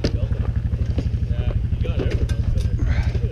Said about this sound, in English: Getting warmed up with a couple wheelies.